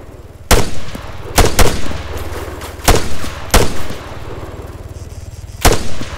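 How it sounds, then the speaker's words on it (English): Gunfire in the military shooter Arma 3 during an airfield firefight: six sharp, loud shots ring out in irregular pairs and singles over a steady low engine-like hum. "Enemy fire!"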